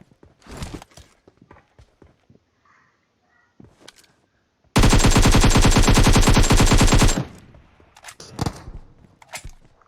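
Sustained loud automatic gunfire in PUBG Mobile, a dense rapid burst lasting a couple of seconds, framed by scattered single shots, footsteps and quieter game noise before and after.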